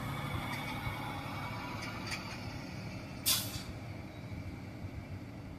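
An SKS bus D3 Mara Liner pulls into the Meru Raya bus terminal in Ipoh, Perak, with a steady low engine rumble throughout and a single short, sharp hiss of air brakes partway through.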